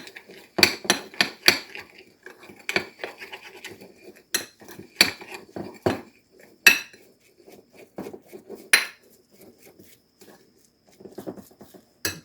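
Utensils mixing pepper and other ingredients in a bowl, a series of sharp, close clinks and scrapes against the bowl in irregular bursts, with quieter gaps between strokes.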